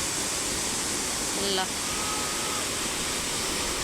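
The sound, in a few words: waterfall near Pokhara, Nepal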